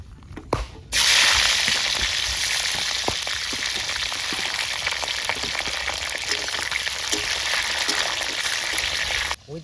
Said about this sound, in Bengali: সবার প্রথমে তেল গরম করে নিয়েছি এখন ক্যাপসিকাম ভাজবো